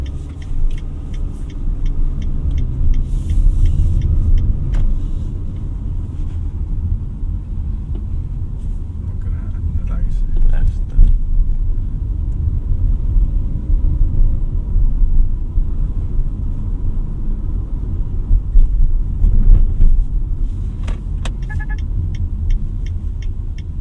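A 2024 Mitsubishi Xforce engine drones steadily with low road rumble from inside the cabin while driving, a continuous near hum that swells slightly at higher revs, with no talking.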